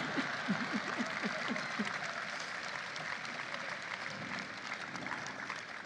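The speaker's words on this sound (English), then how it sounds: "That's an applause line." Audience applause at a presidential speech celebrating the Inflation Reduction Act, a steady moderate wash of clapping heard from a distance, with a voice speaking faintly early on.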